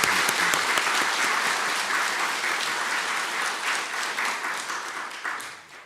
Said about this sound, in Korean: 다시 한번 우리 뜨거운 박수로